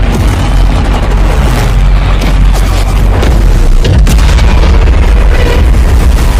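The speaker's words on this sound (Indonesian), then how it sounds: "Tiba-tiba pasukan udara Jepang menyerang dengan tembakan dan bom yang mulai dijatuhkan ke semua kapal yang berada di Pearl" Bombs and gunfire in the Pearl Harbor attack scene of the film Midway: loud, dense booms and crackling shots overlapping continuously, with heavy low rumble throughout and no talk.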